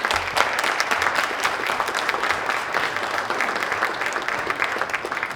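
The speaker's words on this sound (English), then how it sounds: "Please join us in giving Matthew a round of applause and a welcome." Audience applause welcoming a speaker at a Science on Screen film event about artificial intelligence in cinema; dense, steady clapping from a full room fills the whole stretch at even loudness, with no voices over it.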